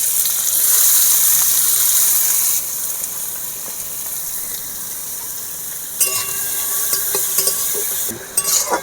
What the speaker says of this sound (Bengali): তেল গরম হয়ে গেছে, এবারে পেঁয়াজ দিয়ে দেবো।